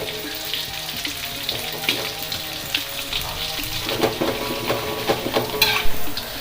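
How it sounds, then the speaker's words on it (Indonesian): Kicimpring cikur, spicy cassava crackers, fry in hot oil with a steady loud sizzle and crackle while a utensil stirs them, and the bubbling grows busier toward the end. "Kita masukkan lagi kicimpring yang lainnya sampai semuanya habis."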